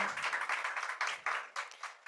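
Audience applause at a Spanish-language church gathering. The clapping is brief and fairly faint, with scattered irregular claps that fade toward the end.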